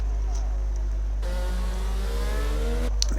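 A McLaren Formula 1 car engine in F1 22, whining at mid pitch with rising harmonic sweeps as it enters the pits over a steady low hum, running continuously and fairly loud.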